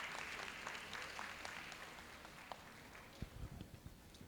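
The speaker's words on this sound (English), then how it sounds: "With a huge round of applause" Audience applause welcoming a speaker on stage at a financial wellness session, fairly faint and steady clapping that thins out, with a few louder isolated claps and bumps near the end.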